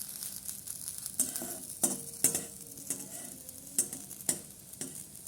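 Eggplant frying in a little oil over a low flame, a soft sizzle broken by sharp clinks and scrapes of a utensil against the pan as the slices are turned, close and intermittent, with no talk.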